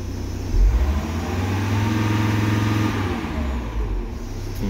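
A VW car engine with a no-crank, no-start fault is revved once, rising from a steady idle to a loud surge that holds for a few seconds, then settles back, close up with no talk.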